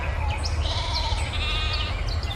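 Sheep bleat repeatedly at a well at midday, several overlapping calls at moderate distance over a steady low rumble of background noise, with no voices.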